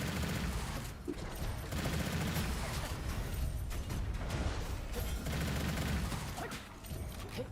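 Gunfire in a video game, a dense continuous fusillade of rapid shots and booms layered together at steady loudness throughout, with no talking.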